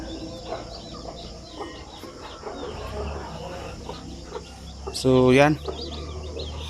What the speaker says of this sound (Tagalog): meron daw mga bagong pisa dito na mga sisiw